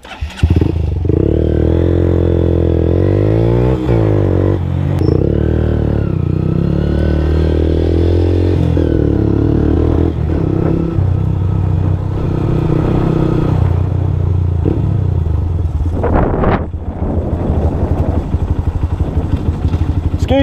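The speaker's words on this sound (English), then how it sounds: "a motorbike's just gone past" A loud motorbike engine roars close by for a long stretch, its pitch rising and falling as it revs, with a brief clatter near the end.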